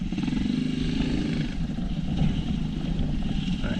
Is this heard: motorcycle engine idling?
yes